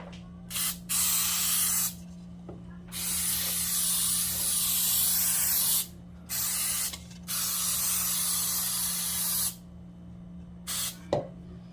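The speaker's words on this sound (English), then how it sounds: "I'm getting ready to spray my pan." Several bursts of cooking spray hiss close by onto a baking pan, each a second or two long with short pauses between them, over a faint steady hum.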